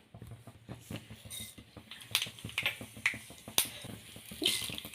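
Mustard seeds spluttering in hot oil in a pan, making a rapid run of sharp pops and crackles throughout, close and fairly loud, with no talking.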